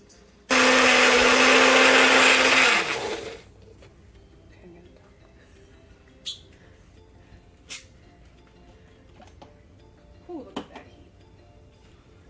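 A blender purees homemade baby food in a loud, steady whir for about three seconds, then spins down and stops, leaving quiet room sounds with a few faint clicks.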